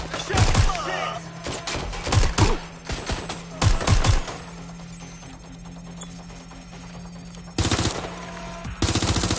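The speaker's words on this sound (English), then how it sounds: "Gunfire!" Machine gun fire rattles in the video game Watch Dogs Legion, with several loud bursts of rapid shots separated by quieter stretches of background game sound.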